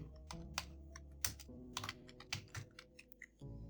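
Typing on a computer keyboard while entering a database name in DaVinci Resolve, a steady run of close, crisp key clicks with uneven rhythm and a few louder strokes, no voices.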